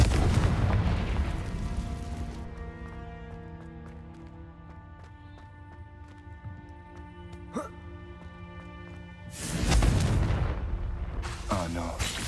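Hogwarts Legacy's Confringo fire spell goes off in loud explosive blasts at the start and again near the end, with sustained sparkling musical tones and a brief zap in between.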